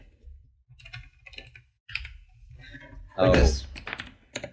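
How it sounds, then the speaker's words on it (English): Clattering keystrokes on a computer keyboard come in quick bursts, close and clear, broken up by a voice talking between them. "Let's do it with the keyboard."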